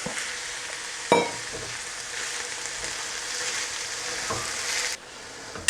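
Salt pork sizzles in a pot over a medium flame with onions and chilies, a steady quiet frying hiss broken by a few sharp clatters and stirring sounds.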